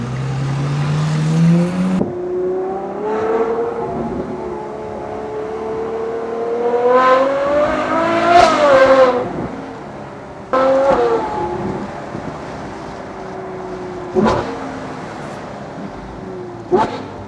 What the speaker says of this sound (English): this is the best sounding V12 with this exhaust